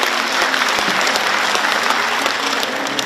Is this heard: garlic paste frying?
no